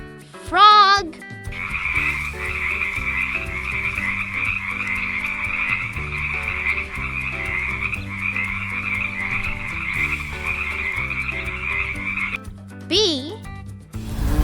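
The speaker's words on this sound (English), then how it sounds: "Frog." Frogs croak in a steady rhythmic chorus of repeated pulsing calls, loud and close, running almost unbroken for about ten seconds, with short bright musical sweeps at the start and near the end.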